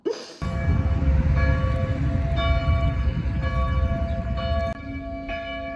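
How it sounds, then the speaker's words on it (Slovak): Village church bell ringing steadily and loudly nearby in summer, its tolling strokes and sustained ringing tones filling the scene for several seconds before easing slightly near the end. "ale neviem, že či ma počujete, lebo tu vyzváňa ten zvon"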